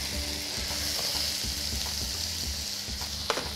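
Mediterranean vegetables sizzling in a hot pan with balsamic vinegar and sun-dried tomato puree, a steady frying hiss punctuated by soft, rhythmic scrapes of stirring and a brief sharp clack near the end.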